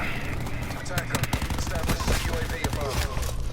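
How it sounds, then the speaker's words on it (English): Sniper rifle shot in Call of Duty Black Ops 4 gameplay, sharp gunfire cracks among rapid bursts, with background music and a voice talking over the action. "That's a mean snipe."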